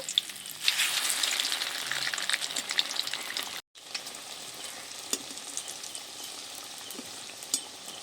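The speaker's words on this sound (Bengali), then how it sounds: "ওইগুলো আর একবার ভাজবো হয়ে যাবে সব পিঠ ঘুরিয়ে ভেজে নেব" Flour-and-potato snack pieces deep-frying in a pan of oil give a steady, close bubbling sizzle with occasional crackles; the sound cuts out for a moment, then resumes at a slightly lower level with sharp pops.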